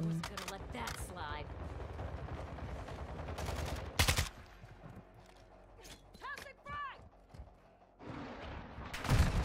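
Gunfire in the Call of Duty Modern Warfare II shooter game, loud bursts of rapid shots at the start, middle and end, separated by quieter in-game noise, with a voice talking between the volleys.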